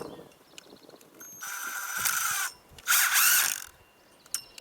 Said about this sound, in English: So what I do here is put a starter screw on somewhere in the middle.